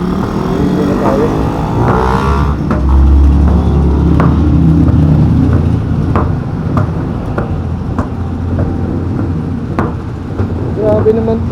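A heavy truck hauling steel, running with two flat tires, rumbles steadily along a road with low engine drone and occasional knocks, while a person talks throughout.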